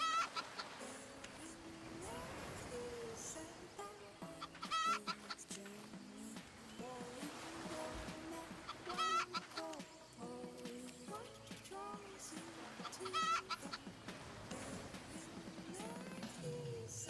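Chickens clucking in a farming video game, with repeated short clucks over a steady backdrop of game music and ambience.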